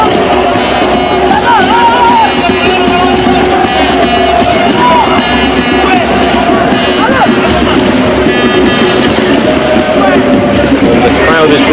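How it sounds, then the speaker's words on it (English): Ivory Coast football supporters at a 1992 match against Zambia chant and sing in a dense stadium roar, with a steady rhythmic beat under crowd noise and a commentator talking throughout. "You can sense there's a stronger rhythm to the music now, all led by the Ivory Coast supporters."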